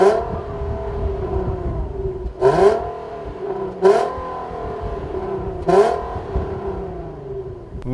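Either a 2014 Infiniti Q60 or a Buick Regal Turbo accelerates at full throttle, its engine note climbing steadily and dropping sharply at three gear shifts, loud and close inside the car with no talking.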